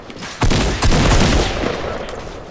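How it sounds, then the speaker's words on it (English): Sniper rifle shots in Fortnite, two close, sharp cracks in quick succession, each followed by a rolling boom that fades out. "Oh, it's a sniper."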